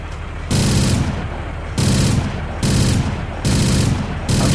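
Heavy video-game gunfire in a competitive match, loud bursts of automatic fire in four regular volleys separated by short pauses, close and dominant with no talk over it.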